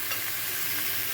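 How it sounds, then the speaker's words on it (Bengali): Banana stem and potato sizzle in a frying pan, a constant close hiss with faint stirring over about a second. "এটা এখন ভাজা ভাজা করবো আমি।"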